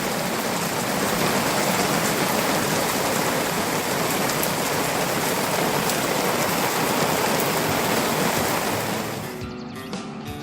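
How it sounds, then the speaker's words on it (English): Heavy rain pours down on a campsite at Bald Eagle State Park, Pennsylvania, a loud, dense, steady hiss of falling water that fades near the end. "I think it's raining."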